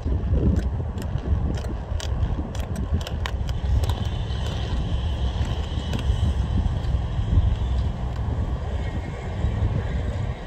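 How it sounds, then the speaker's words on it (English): Steady outdoor wind buffets the microphone while someone roller skates, a continuous low rumble that holds for the whole stretch, with sharp clicks and taps from the skates scattered on top. "Oh, the wind is against me right now."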